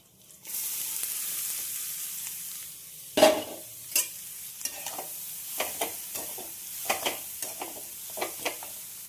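Filling for a Bengali dish cooked in a pan with whole cumin, a soft steady sizzle broken by a sharp scrape and repeated spatula stirs and knocks against the pan, close and unaccompanied by speech.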